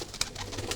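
Pigeons coo in a short burst, a few soft throaty notes close by with a sharper call partway through, no voices over them.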